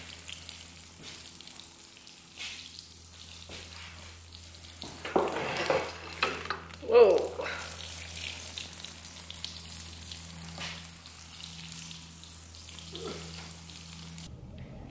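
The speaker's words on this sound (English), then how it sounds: "I am first going to start by watering this because it's super dry" Water splashes onto very dry garden plants in a few short gushing bursts midway, otherwise quiet outdoor ambience, with a brief exhaled sigh from a person.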